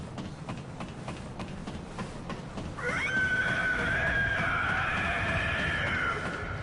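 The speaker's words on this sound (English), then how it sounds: "Hear the deafening screech." A deafening creature screech from Bloodborne rises suddenly partway through as a loud, sustained shrill cry over dark ambient game noise and earlier rhythmic clanks.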